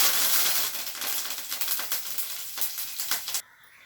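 A tempering of chana dal, mustard seeds, cumin, dried red chillies and curry leaves crackles and sizzles loudly in hot oil, with rapid popping bursts that stop abruptly near the end.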